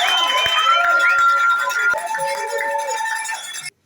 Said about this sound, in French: je demande à tout le monde de bien vouloir vous réserver une ovation méritée des acclamations